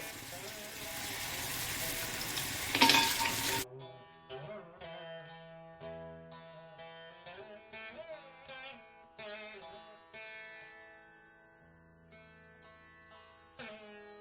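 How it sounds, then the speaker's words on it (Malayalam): Achappam batter on a mould sizzles and bubbles in hot coconut oil in a deep pan, Thrissur style, a dense steady frying hiss for about three and a half seconds that cuts off before a voice speaks. "ഉരുളിയിൽ ചൂടായ വെളിച്ചെണ്ണയിൽ മുക്കുമ്പോൾ"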